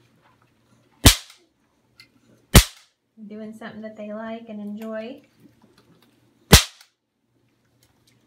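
Three sharp cap gun bangs, spaced apart and loud, with a person talking briefly between the second and third shots.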